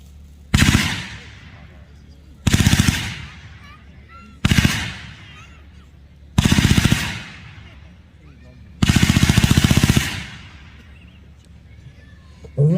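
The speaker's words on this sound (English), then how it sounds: "Ladies and gentlemen, the German MG42 machine gun." A German MG42 machine gun firing from a bipod, rattling out five long, very rapid bursts separated by short pauses, loud and close with echo trailing after each burst.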